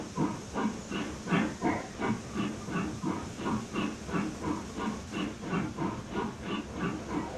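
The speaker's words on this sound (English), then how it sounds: "Just a way to blow off steam when engines do that?" A steam locomotive venting steam from its cylinder cocks, loud rhythmic bursts of hissing in a steady chuffing beat that carries on without a break.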